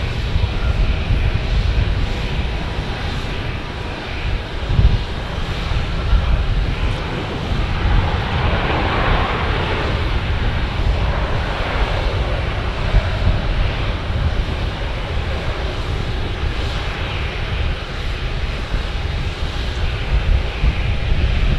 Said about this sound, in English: there it is from Houston, an E-175 United Express flight